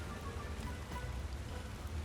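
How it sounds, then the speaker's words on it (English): Steady rain patters in the video game Skyrim, a continuous soft hiss of drops with a low rumbling bed, heard alone without any talking. "What kind of slow motion rain is this?"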